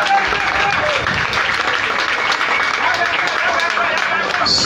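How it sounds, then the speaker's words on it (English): Sustained applause from an audience honoring two people at a Liberia Broadcasting System event, a dense, even wash of clapping that fills the whole stretch at close range. "Please give them a big hand of applause."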